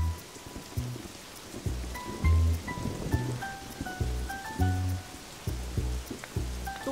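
Heavy rain pouring at night, a dense steady hiss of drops hitting surfaces with a few faint rumbles of thunder mixed in, continuous throughout.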